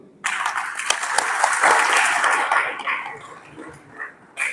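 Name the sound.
loud applause from party workers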